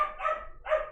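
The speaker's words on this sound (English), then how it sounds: "I apologize for my dog" A pet dog barks twice, sharp and fairly close, in a quiet indoor room with no one talking.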